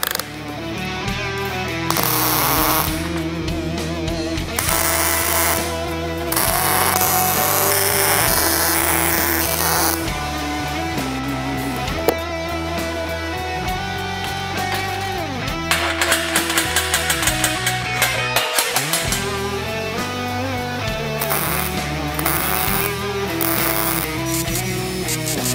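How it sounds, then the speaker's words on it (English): Tack welding steel horseshoes together, a long run of crackling, buzzing arc bursts that start and stop repeatedly, close and loud, with clanking metal between welds and no talking. "So what I'm going to do now is just basically tack it all together."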